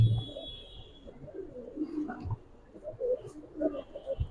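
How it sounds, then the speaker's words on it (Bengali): Jabra Pankhi Giribaz pigeons coo softly and briefly at close range while people talk over them during a pigeon sale. "ঠিক আছে, পাঙ্খি কবুতর।"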